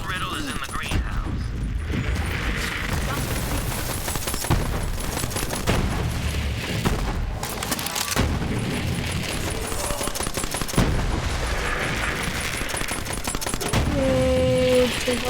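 Gunfire in the Borderlands 3 video game, dense and continuous with heavy mechanical clatter and booms throughout, loud and busy.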